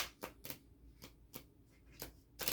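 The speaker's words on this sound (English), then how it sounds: "We're going to shuffle one more time to get started" A deck of cards being shuffled up close, a run of crisp riffling bursts at an uneven rhythm, alone against quiet room tone.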